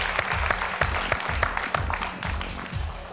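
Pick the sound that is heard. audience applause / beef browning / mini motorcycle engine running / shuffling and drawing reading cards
audience applause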